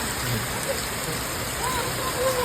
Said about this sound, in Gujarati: વરસાદ જોરદાર ચાલુ થઈ ગયો